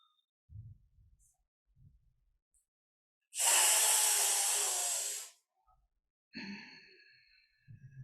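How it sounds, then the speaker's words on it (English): A long, steady breath is pushed out through the nostrils during a yoga pranayama breathing exercise, making a loud, close hiss of about two seconds. Softer breaths can be heard before and after it. "Breathing out through nostrils."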